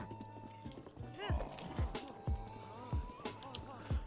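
Horse hooves clip-clop in Zelda: Breath of the Wild as the mount trots along at a steady, rhythmic pace, with soft background game sounds and no talk.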